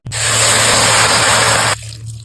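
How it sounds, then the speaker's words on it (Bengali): Milk pours in a steady, loud gush for nearly two seconds, then stops abruptly and leaves a quieter background. "তুমি দুধ এত ঢেলে দিলে কেন?"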